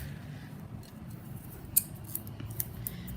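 Big household scissors snip through foam tape in a quiet room, a few soft clicks and one sharper cut near the middle, close and faint with no talking.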